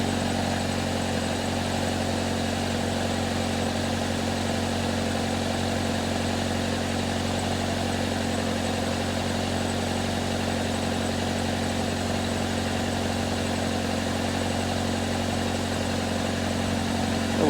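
A 1997 Toyota Corolla engine idles after an oil change, holding a steady, even, low drone for the whole stretch without revving, with no voices.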